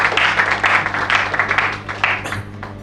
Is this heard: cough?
no